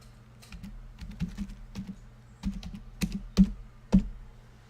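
Typing on a computer keyboard, close and fairly quiet, with irregular bursts of key clicks and a few sharper single strokes over a low steady hum.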